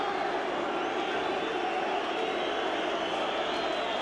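Distant, steady crowd noise of good-natured football fans celebrating on the pitch after a Manchester City or Charlton Athletic match, a continuous soft roar with no single peaks.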